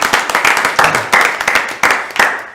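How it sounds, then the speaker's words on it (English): An audience at a live quiz event breaks into a round of applause, a dense crowd of clapping hands that surges in several waves, near and loud throughout, with no talk over it. "Please give him a round of applause."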